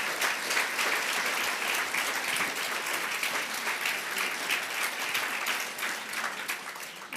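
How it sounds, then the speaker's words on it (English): Conference audience gives a speaker a full round of applause, dense steady clapping that holds for the whole stretch with no talk over it. "a big round of applause again for Claire"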